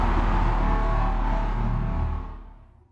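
A heavy processed impact sound effect shaped with EQ, reverb, transient control and compression in Bitwig, a loud deep boom with a long rumbling reverberant body that holds for about two seconds and then fades away.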